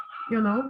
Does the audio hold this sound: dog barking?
yes